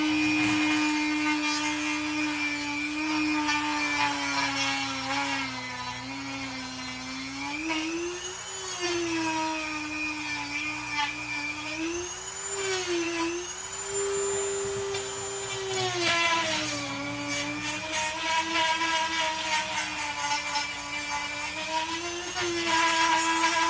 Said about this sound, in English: Using a little grinder wheel,